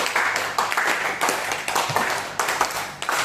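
A crowd of adults claps the 'tepuk 5' pattern twice over. Dense, overlapping handclaps come in regular pulses, close to applause, and fill the room steadily without voices.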